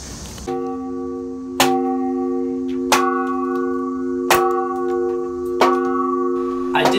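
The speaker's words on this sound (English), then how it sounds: "I did my best to ring the bell, which hadn't been rung in years, with a broken plank that I found." An old bell in an abandoned Detroit church is struck with a broken plank, giving five loud, close strikes about every 1.3 seconds. Each strike leaves a long, shimmering ring that overlaps the next.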